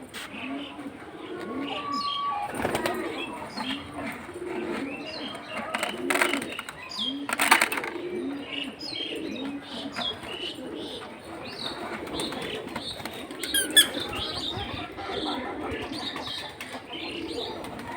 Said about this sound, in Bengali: কবুতর আসছে।